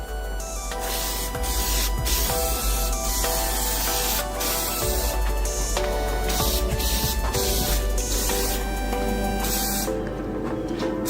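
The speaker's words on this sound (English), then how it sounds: "Got this final coat going on this center console. It's a heavy coat." A spray gun lays a heavy final coat of paint on a car center console, a steady close hiss with short pauses and restarts between passes, with no talking.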